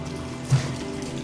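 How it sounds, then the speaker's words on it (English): A whole can of Pepsi poured into a marinade, giving a steady faint liquid trickle and splash with a slight swell midway and no talk. "So he's pouring in the Pepsi."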